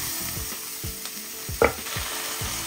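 Wagyu smash burger patty sizzling on a hot pan as it is pressed down, a soft, close crackle with a few short scraping strokes and one sharp clink partway through, no voices.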